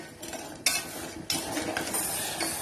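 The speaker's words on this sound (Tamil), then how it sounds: "இப்போ நம்ம அடுப்புல வச்சு அப்படியே லைட்டா கரைச்சு விட்டுக்கலாம்." Jaggery dissolving in a little water in a pan on the stove, stirred with a metal spoon: repeated scraping and clinking strokes against the vessel, close and moderately loud, with no talking.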